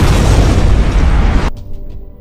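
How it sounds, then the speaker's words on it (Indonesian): A loud movie explosion rigged in a microwave on a house's upper floor hits as one dense, roaring boom that cuts off sharply into a faint rumbling tail. "Dan boom! Ledakan pun terjadi."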